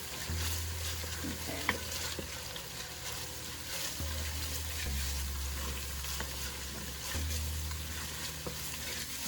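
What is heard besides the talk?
stirring tomato paste into frying green grams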